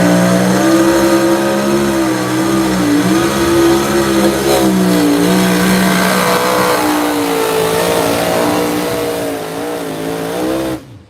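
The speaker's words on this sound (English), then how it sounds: "Coming out of Maryland on the super modified two-wheel drive." Super modified two-wheel-drive pulling vehicle weighing 6,200 pounds roaring at full throttle at a pulling event, a loud, sustained engine howl whose pitch wavers up and down before cutting off at the end.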